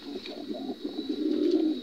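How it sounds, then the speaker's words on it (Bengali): Grizzle pigeons cooing close by in a loft, a continuous run of low throaty coos that swell louder in the second half over a faint steady hiss. "এই যে আমার খুব প্রিয় গ্রেজেল কবুতরগুলো"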